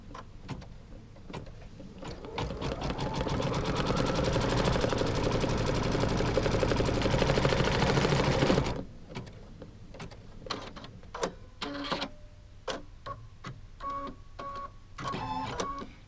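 A sewing machine stitches quilt block fabric in a continuous rapid hum for several seconds, then stops, followed by scattered clicks and short mechanical bursts of handling and repositioning, close and fairly loud, with no talking.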